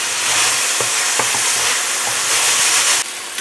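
Rib tips browning in a hot pan give a steady, loud broadband sizzle with occasional stirring clicks and scrapes, and no voices over it.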